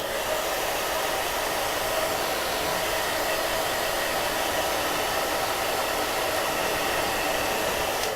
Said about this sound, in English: So I turn my blow dryer on, and I'm going to heat this up for you.